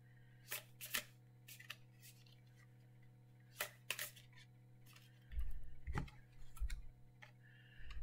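A tarot card is handled and laid down on a table: a few quiet, sharp card ticks and taps, then a soft shuffling slide and a couple of low thumps as it settles, with a steady electrical hum underneath.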